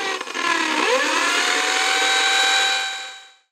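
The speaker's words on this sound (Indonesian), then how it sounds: "Jadi harus dibor." A power drill boring into a Toyota Hiace Premio 2021 door panel, with a brief, close, loud whine that holds steady and then spins down, with no talking.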